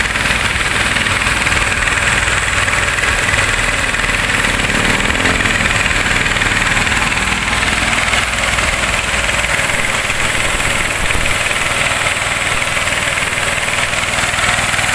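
A power sprayer driven by a ProQuip 6.5 HP engine runs loudly and continuously, a steady mechanical drone with a buzzing, vibrating edge and no voices over it.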